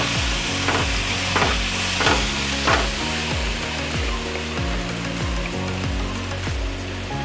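Coriander and chilli powder being stirred into biryani masala in a pan, a steady frying sizzle with repeated scraping strokes of a spoon, close and continuous with no talk.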